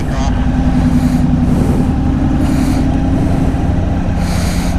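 A 2015 Can-Am Spyder RT idles with a steady, loud low rumble, close and continuous throughout, while someone talks over it.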